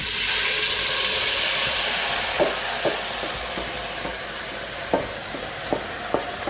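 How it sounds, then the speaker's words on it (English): Kidney added to a steaming pot of cabbage, green banana, yam and pumpkin: a loud steady hiss and sizzle with scattered light knocks and stirring taps, no voices. "now I'm gonna add my kidney"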